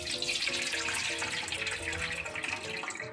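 Water runs off boiled rice vermicelli noodles being drained, a steady splashing stream throughout, fairly soft, with light background music underneath.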